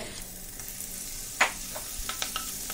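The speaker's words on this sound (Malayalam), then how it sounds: "ഇതൊന്ന് വഴറ്റിയെടുക്കാം" Ginger garlic paste sautéing in melted butter in a pan, a steady soft sizzle with one sharp crackle partway through and a few light stirring taps after it.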